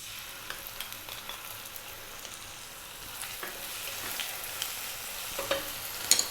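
Beef brisket sizzles and fries steadily in a pan as oyster sauce goes in, with scattered stirring clicks and scrapes over a constant crackle that grows slightly busier toward the end.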